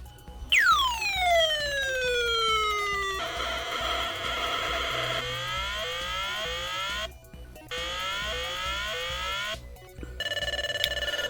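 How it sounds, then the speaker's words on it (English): Saitek Pocket Sea Battle electronic battleship game playing its ship-sinking sound: a loud falling electronic whistle followed by repeated descending beeping sweeps and buzzy tones, ending in short blips. "you heard the little sinking sound right there"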